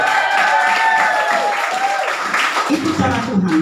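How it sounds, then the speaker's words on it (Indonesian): A church congregation claps together for several seconds, a dense wash of hands with voices mixed in and a brief shout near the end. "Tepuk buat Tuhan."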